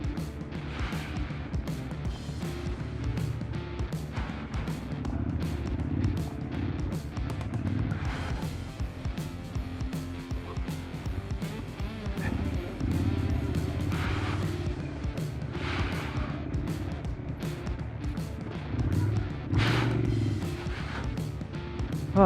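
A Triumph 1200 Scrambler motorcycle rides through desert sand on a 21-inch front wheel, its engine a steady, rumbling drone with surges and bumps over a long stretch, recorded from on the bike with no talk.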